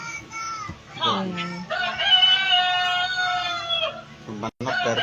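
A person imitates a rooster crowing with the voice, a drawn-out rising and falling call of several seconds, close and fairly loud, then a brief gap and more vocalizing.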